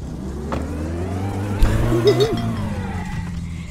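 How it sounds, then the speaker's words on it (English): A car in My Summer Car drifting outside the Teimo shop, its engine droning steadily with a brief squeal and clunk in the middle. "I'll do a couple celebratory drifts in the fucking Teimo shop."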